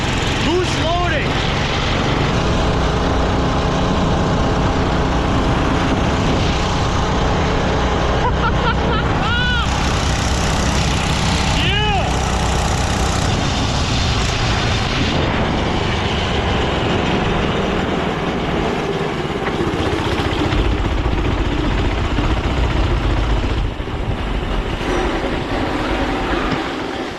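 A Doodle Bug minibike engine runs loudly and continuously nearby, a rough buzzing drone that swells and dips as it revs, with excited voices talking and shouting over it at times.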